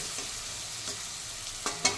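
Soft crackling sizzle of spices frying in a pan, with a couple of brief scraping stirs near the end.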